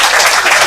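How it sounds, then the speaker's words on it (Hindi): Brief burst of dense clapping as a class applauds students who scored well on a weekly test, steady and fairly loud throughout with no talk over it. "तालियां बजाओ भी, क्या"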